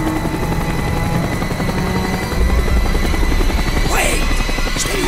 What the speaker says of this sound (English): The chopper is coming around again.